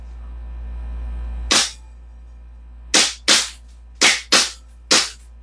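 A Glock 18 airsoft pistol fires six sharp shots until the magazine runs dry: one, then a pause, then two close pairs and a final single shot, each loud and near over a steady low hum.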